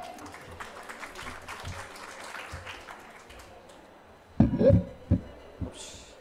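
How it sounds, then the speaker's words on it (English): An audience in the Indonesia Pavilion at the COP27 climate conference gives scattered, fairly soft applause for several seconds, followed by brief louder sounds and a voice near the end. "Okay, applause for Mr. Adi."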